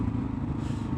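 A Kawasaki KLR 650 single-cylinder motorcycle with a new header pipe rumbles loudly under throttle, a dense, throbbing low exhaust note held steady for a brief moment.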